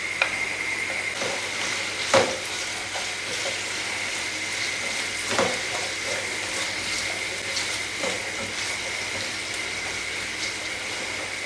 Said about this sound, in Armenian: Գազարը տապակվում է, ես մի փոքր աղ եմ անում